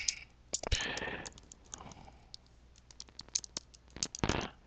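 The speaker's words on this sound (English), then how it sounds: "I'm just going to type here my website." Keys clatter on a computer keyboard in irregular bursts of quick, close clicks, with short pauses between typed runs and a faint rustle beneath.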